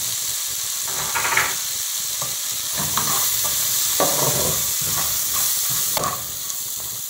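Onion, garlic and calabresa sausage frying in a pan, a loud steady sizzle and hiss up close, with intermittent scraping and stirring strokes and no voices.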